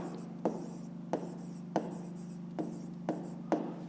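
Pen or pencil scratching out handwritten numbers while a fifth-grade maths exercise is solved, a steady scratch broken by about six sharp taps at fairly regular intervals, close and quiet over a faint electrical hum.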